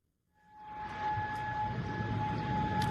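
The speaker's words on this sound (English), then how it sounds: "Those are some of the sirens going off in Kuwait" Air raid sirens in Kuwait: a steady, droning siren tone swells up out of silence and holds over a broad, rumbling background roar.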